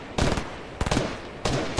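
Three loud bursts of rapid automatic gunfire in Fortnite, each roughly half a second long and spaced about half a second apart, close and punchy with no talking.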